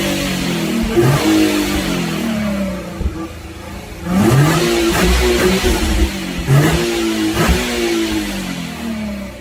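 A Nissan 350Z fitted with a race car engine revs hard and loud, climbing through repeated rising pitch sweeps as it accelerates, dropping back and surging again in close, aggressive bursts.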